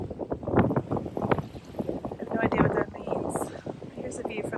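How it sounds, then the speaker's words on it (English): Wind gusting outdoors at Pomme de Terre State Park in Missouri, buffeting the microphone in uneven rushes while a voice talks over it. "Ooh, windy out here."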